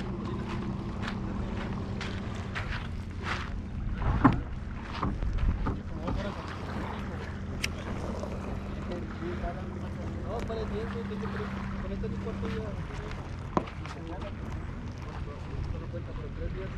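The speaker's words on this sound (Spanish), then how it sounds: "Ahí está la lancha." A fishing boat's motor drones on the La Boquilla reservoir during a bass tournament, a steady low hum lasting most of the stretch before fading, with wind buffeting the microphone, water sounds and a few brief knocks.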